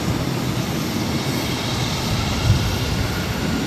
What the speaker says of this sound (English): This is JetBlue Airways 1855 taking off to Washington Reagan National on an E190.